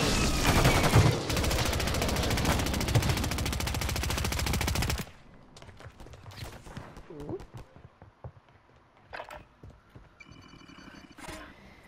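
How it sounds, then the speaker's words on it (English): Call of Duty gunfire during a Plunder match: a loud, sustained automatic burst fills the first five seconds, followed by quieter scattered shots and distant battle noise. "Somebody was shooting at me."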